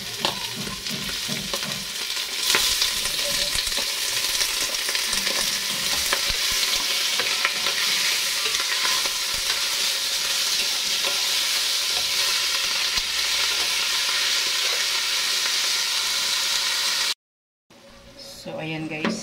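Onions sautéing with chicken liver, gizzards and chicken in a pan give a loud, continuous sizzle and frying hiss with occasional stirring scrapes, then stop abruptly near the end, with a voice speaking at times.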